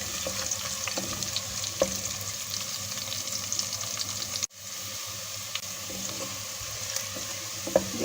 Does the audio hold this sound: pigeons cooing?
no